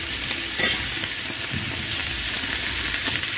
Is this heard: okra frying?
yes